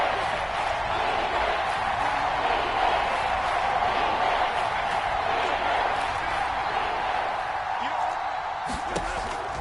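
A steady roar from a stadium crowd in a video game football broadcast builds before a big third down, a dense, continuous wash of cheering under faint background thumps.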